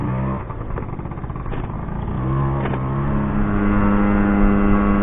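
A small 50cc motorbike with a worn front brake pulls away, its engine buzzing and rising steadily in pitch as it accelerates, close and continuous with no talk.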